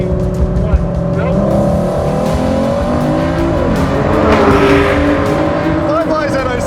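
A 2023 Corvette Z06 and a 2022 Ford GT launch side by side in a drag race, their engines roaring loud and continuous with climbing revs and faint tire noise, while voices talk over the din.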